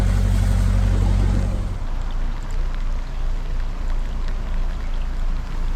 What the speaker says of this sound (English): the heavens really did open up, and there was a torrential downpour, as you can see